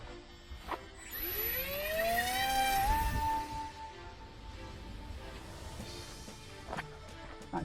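A ZOHD Altus RC plane with a 3D-printed nose, running on a 4S2P battery, launches in calm air; its electric motor whine climbs steeply in pitch for about two seconds, levels into a steady tone, then fades as the plane flies away.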